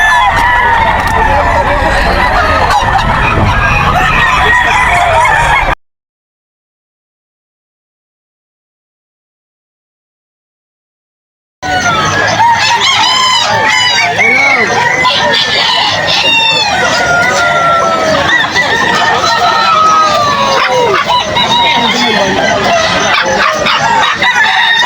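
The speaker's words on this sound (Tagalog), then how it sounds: "Update tayo ng manok panabo." Gamecock roosters at a pet market crowing and clucking, several loud crows and clucks, close by, over a busy background with voices in the crowd, broken by a silent gap midway.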